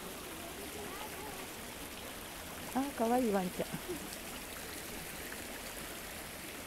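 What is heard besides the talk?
river stream flowing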